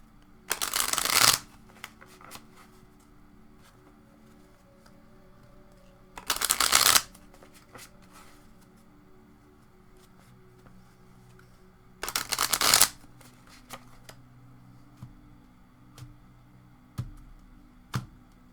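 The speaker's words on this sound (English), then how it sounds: "Let's just shuffle them over here." Tarot cards are riffled three times in quick, crisp bursts, separated by long quiet pauses with faint handling noises, close by.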